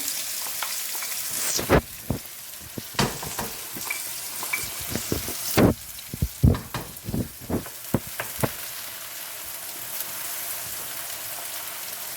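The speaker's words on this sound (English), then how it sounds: "So I'll add next I'll add my pureed tomatoes as well." Pureed tomatoes hit a hot pan for spaghetti sauce, bursting into a crackling sizzle punctuated by sharp clatters and scrapes of stirring, then settling into a steadier fry.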